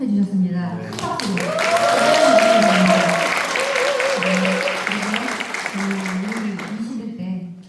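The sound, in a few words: loud applause from audience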